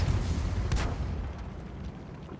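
Artillery shell impact in World of Tanks: a single broadband boom near the start that decays into a low rumble, with game ambience continuing underneath.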